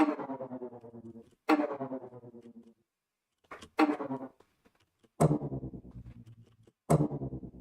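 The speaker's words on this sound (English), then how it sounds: "That's supposed to be a cello, but because I'm doing weird things" A cello processed with heavy effects and distortion in music production plays four separate phrases, each a sharp attack followed by a decaying, pulsing tail, with silent gaps between them.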